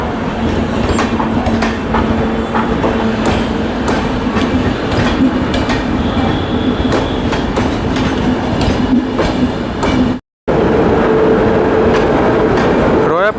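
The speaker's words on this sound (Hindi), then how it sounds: "नेताजी सुभाष चंद्र बोस एतवारी बिलासपुर इंटरसिटी एक्सप्रेस के साथ WFP7 के साथ डिपार्ट कर रही है रायपुर जंक्शन से।" An Intercity Express hauled by a WFP7 electric locomotive departs Raipur Junction, its loud steady rumble carrying rhythmic clickety-clack of wheels over rail joints and occasional squeals for the whole stretch, with a brief cut near the end.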